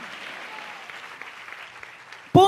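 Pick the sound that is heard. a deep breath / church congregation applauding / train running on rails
church congregation applauding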